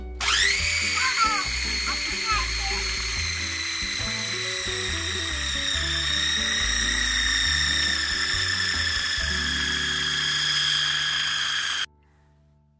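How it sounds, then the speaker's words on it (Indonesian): A blender whirs loudly and steadily at high speed for several seconds, blending a chicken and ice water mixture for pempek, its pitch shifting slightly as the contents churn, then it abruptly stops. "Kemudian kita blender semua."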